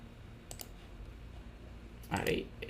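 Mouse clicks while resetting a policy in Cisco ISE: one soft click comes early, then a sharper, louder double click near the end, with quiet room tone between.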